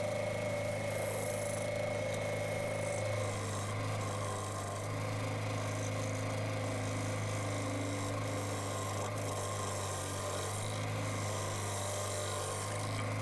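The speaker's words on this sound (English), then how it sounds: "So there's the mortise going in." A lathe chisel cuts a deep mortise into an elm root platter, giving a steady, continuous rasping scrape over a constant mechanical hum, close and even throughout with no talk.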